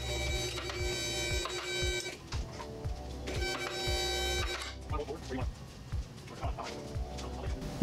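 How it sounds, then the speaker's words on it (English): Vehicle lift raising a Jeep Wrangler frame in a garage, a steady mechanical hum with rhythmic low thumps and tonal whine, moderately loud throughout. "So now I'll lift the Jeep up in the air and we can get a better look at our body mounts."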